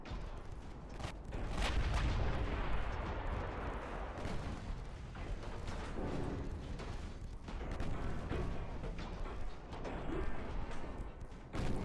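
Heavy battleship guns fire and shells strike home in the naval warfare game Ultimate Admiral Dreadnoughts, a dense, sustained roar of overlapping booms and rumbling blasts that stays loud throughout with no one speaking.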